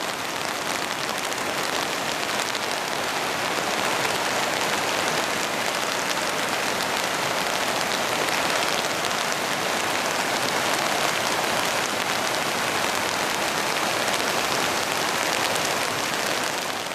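Steady, dense rain falls on a riverbank and patters close by on an umbrella, a loud, even hiss that never lets up and has no voices over it.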